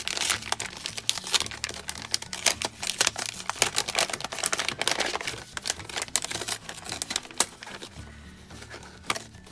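A paper mail package is opened by hand: close, continuous crinkling and rustling of paper with sharp bursts of tearing, and no talking.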